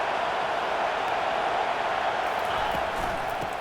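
A stadium crowd roars in EA NCAA College Football 26 as a home defense backs up at the goal line, a steady, broad wash of cheering that holds at an even level throughout.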